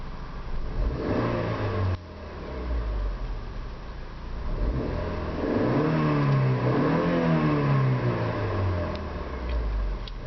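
A 2008 Honda CR-V engine revs up to about 4,500 RPM, its pitch climbing and holding in a steady mid-range drone, heard close and fairly loud with no talking.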